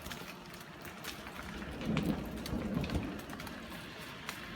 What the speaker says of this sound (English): We're taking heavy fire here. You should see this hail. It's like the size of golf balls.